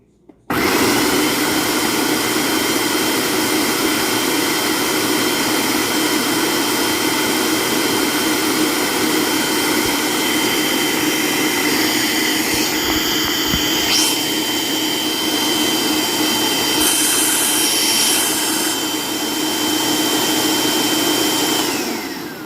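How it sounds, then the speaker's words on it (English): An electric grinder whirs steadily as it pulverizes sofrito ingredients, a loud, continuous motor roar that runs unbroken for about twenty seconds. "you gotta grind it in intervals"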